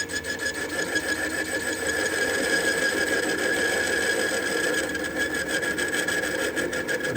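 A lathe hums steadily while its tool intermittently scrapes and cuts the threads out of a nut. The scraping is a continuous close rasp over the motor drone, with no talk.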